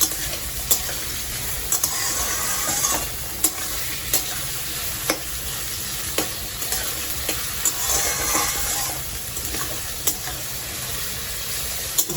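Raisins fry in hot oil for capsicum pulao, a steady close sizzle punctuated at regular intervals by crisp taps and scrapes of a spoon stirring the pan, with no talking.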